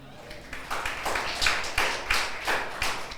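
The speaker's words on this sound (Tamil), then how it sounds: "கைத்தட்டுங்க." A church congregation claps its hands in a Sunday service, a quick run of about ten sharp, fairly close claps in an uneven rhythm that builds up over a few seconds.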